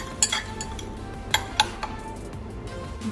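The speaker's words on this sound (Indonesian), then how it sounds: "ketika sudah dimasukkan Aquades, kita aduk hingga homogen" Glass stirring rod clinking inside lab glassware while vitamin C solution is mixed with distilled water, a few light, sharp taps and chinks spaced irregularly over a quiet room background.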